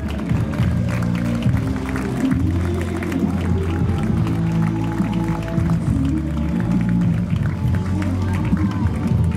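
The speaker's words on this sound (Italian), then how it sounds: "naturalmente un grande applauso a questi tre splendidi protagonisti" Dense crowd noise at an outdoor cycling race awards ceremony in Reggio Calabria, with continuous applause and clapping blended into a busy, loud murmur of voices and music-like tones throughout.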